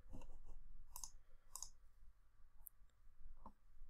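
Computer mouse clicking, a few quiet, sharp clicks spaced irregularly, some in quick pairs, over a faint low hum.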